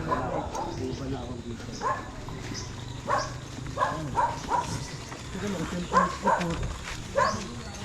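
A dog barks repeatedly in short bursts, fairly close, amid background chatter and people talking, by a forest river in Nagcarlan, Laguna.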